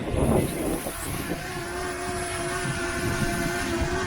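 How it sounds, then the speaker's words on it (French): Steady high-pitched buzzing whine of a small Potensic Atom drone's rotors spinning up and lifting off, close by and continuous, with faint wind noise underneath. "je vais faire décoller mon autre drone"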